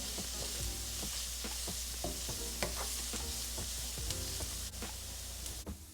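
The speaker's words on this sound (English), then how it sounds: "And you'll let that saute for about 8 to 10 minutes or until it's softened." Onion, bell pepper and celery sautéing in a pot, a steady close sizzle with repeated scraping and stirring clicks of a utensil.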